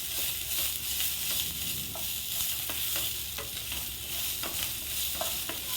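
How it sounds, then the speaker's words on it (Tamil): Tamarind sautéed in a pan for coriander chutney: a continuous bright sizzle with repeated close stirring clicks and scrapes from the spoon against the pan. "இப்போ இதை நல்லா வதக்கிக்கலாம் கொஞ்ச நேரம்"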